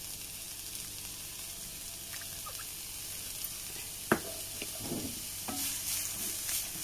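A large chopped onion stirred as it fries in hot coconut oil in a pan, giving a soft, steady sizzle with a few scraping stirs and light clinks, fairly quiet with no talking.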